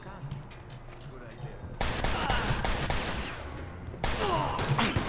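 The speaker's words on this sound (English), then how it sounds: "Well, I'm gonna have to shoot everybody then" Gunfire in the Mafia II video game, heavy and continuous with dense bursts, louder from about two seconds onward and swelling again near the end, mixed with other game sound.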